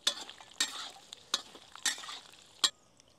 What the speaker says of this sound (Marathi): आपण आता मसाला व्यवस्थित भाजून घेऊ।